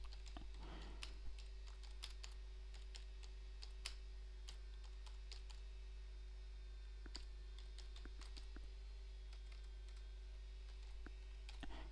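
Someone types on a computer keyboard while entering text into a Word 2010 document. Faint, irregular key clicks come in quick bursts with short pauses between them, over a low steady hum.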